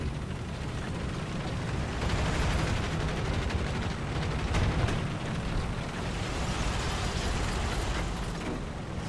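Tank guns firing in War Thunder during a night battle with a Neubaufahrzeug, heavy booming shots buried in a dense, continuous rumble of engine and battle noise, with no clear gaps between blasts.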